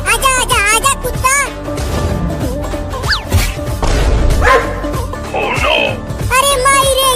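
A cartoon dog barks in a Hindi comedy animation, bursts of yapping barks at the start and end with comic crash and slide effects between, under excited animated voices.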